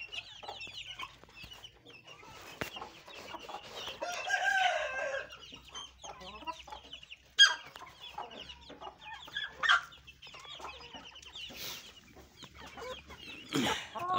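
Black Shamo and Aseel gamefowl cluck and crow nearby, a busy mix of clucks with loud crowing bursts rising over a quiet farmyard background.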